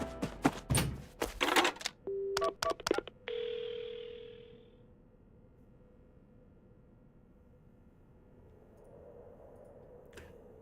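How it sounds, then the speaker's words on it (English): In a video game, several clicks and thunks of handling a telephone, then a steady electronic tone that fades, leaving quiet low hiss. "The phone, I've got to call an ambulance."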